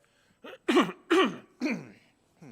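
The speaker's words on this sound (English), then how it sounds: "I'm probably clearing my throat right into your ear." A close voice clears its throat a few times in quick, rough bursts, ending with a short vocal sound.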